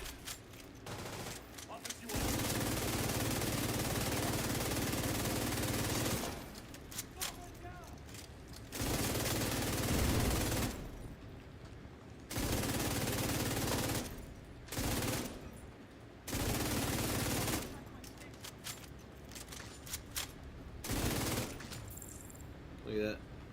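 Light machine gun fire in The Division 2 comes in several loud, sustained bursts separated by short pauses, with talk heard during the quieter stretches.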